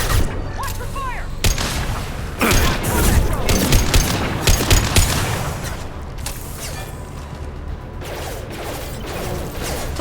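Heavy gunfire in the shooter game Mass Effect: Legendary Edition, with bursts of shots, crashes and explosive impacts in quick succession, loud and close, with voices heard among the battle noise.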